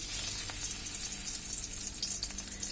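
Chapa shutki dried-fish fritters frying slowly in hot oil, with a steady, close, bright sizzle and faint bubbling and no talk.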